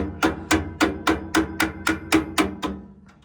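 A run of ten sharp metallic strikes in a quick, even rhythm, close and loud, a tool head used as a hammer during furnace hot surface igniter replacement, then stopping.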